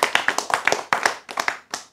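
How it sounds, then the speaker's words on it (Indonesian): An audience at a religious lecture claps in short rhythmic bursts, several separate volleys of close hand claps in quick succession. "Tepuk tangan."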